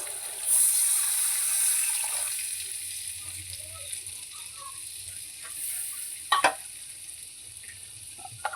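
A bowl of buttermilk is poured into a hot pan for a rotla shaak (gulab sato), bursting into a loud hiss that settles into a softer steady sizzle, with a few clatters of a utensil later.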